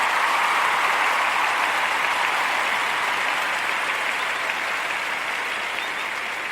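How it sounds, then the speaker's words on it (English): Audience applause in a school-board style meeting, steady dense clapping from a crowd sustained throughout and fading slightly at the end, no talk over it. "let's give them a round of applause for that"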